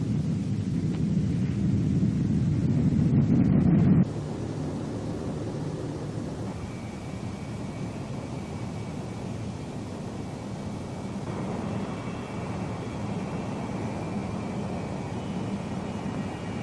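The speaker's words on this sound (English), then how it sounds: "When it's good and ready, the plane will fly off by itself." Boeing B-47 Stratojet bomber taking off, a steady loud jet engine roar that is heaviest in the first seconds, then settles into a sustained broadband rumble with a faint high whine above it.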